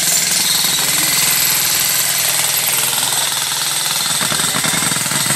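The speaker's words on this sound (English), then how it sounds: "Get away from that jackhammer noise a little bit." A jackhammer pounds steadily and loudly near a fence-post building site, a dense continuous rattling hammer that runs through the whole stretch with no pause and no voices.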